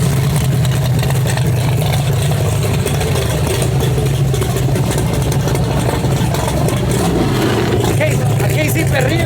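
A 2,500 WHP race truck engine roars continuously during a burnout, a loud, sustained low-pitched drone with steady revving that holds for the full stretch, with no talk.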